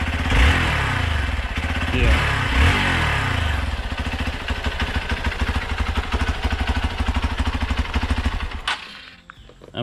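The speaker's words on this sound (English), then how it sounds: "this is a stock Xpulse Pro, and if you start this, you just won't get the same feel" A stock Hero Xpulse Pro motorcycle engine starts and settles into a steady, close, mid-pitched idle chug with some mechanical clatter, then cuts off near the end.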